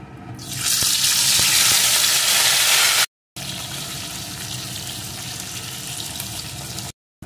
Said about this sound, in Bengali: তেলটা গরম হয়ে গেছে, এখন মাছগুলোকে দিয়ে ভেজে নেব।